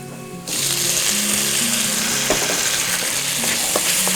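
Steady, crackling sizzle of onions frying in a hot pan for a Kerala vegetable dish, continuous and close, with faint scraping clicks now and then.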